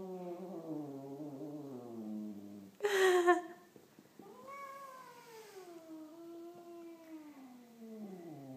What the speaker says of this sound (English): It's the weirdest noise I've ever heard a cat make.